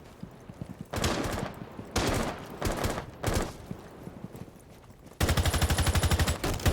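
Rapid bursts of automatic gunfire from the video game Rainbow Six Siege come in several loud, separate volleys, ending in a long sustained burst of quick repeated shots.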